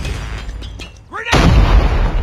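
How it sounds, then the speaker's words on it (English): A grenade blast in Call of Duty Mobile: after a short stretch of quieter gunfire a sudden loud, close boom erupts and rumbles on heavily for about a second. "Grenade!"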